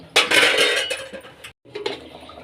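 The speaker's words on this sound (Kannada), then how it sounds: "ಈಗ ತಟ್ಟೆ ಮುಚ್ಚನ ಚೆನ್ನಾಗಿ ಬಾಯ್ಲ್ ಆಗಲಿ" A steel plate set down as a lid over a pot of boiling greens and salt makes a bright metallic clatter and ring that fades out, a short silent gap, then softer scraping clinks, close by with no talk.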